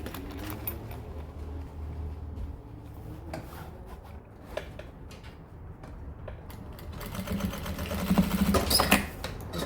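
A sewing machine stitches a seam along the side of a fabric cosmetic bag, giving a steady fine mechanical whirr with light ticking that swells louder toward the end.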